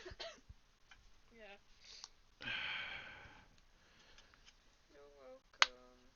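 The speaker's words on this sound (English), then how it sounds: "Oh, you're coughing up nicely." Coughing with a harsh, noisy burst partway through and a sharp hack near the end, mixed with sniffs and throat noises while someone talks.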